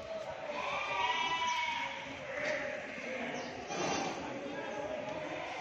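Goats bleating at the Deonar goat market, several wavering nasal bleats rising and fading over a crowded background murmur, with voices talking nearby.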